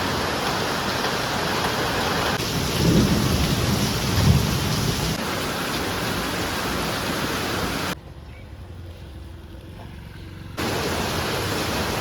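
Heavy rain pours in a constant loud roar, with deep thunder rumbling through it twice early on; the downpour drops away for a few seconds, then returns just as strong.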